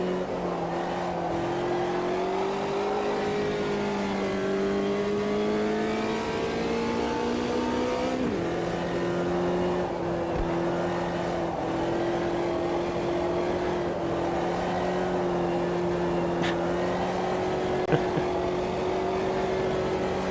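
A race car in Automobilista 2 laps Road America, its engine droning and climbing through the gears with a gear change midway, then holding a steady high note, continuous and fairly loud.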